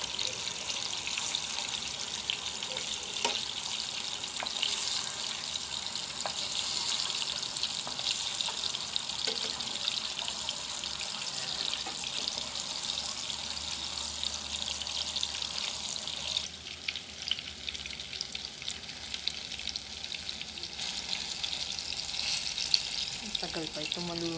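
Bananas fry steadily in hot oil, a continuous bright sizzle and crackle that holds even and close throughout with no pauses, rendered as Filipino pritong saging.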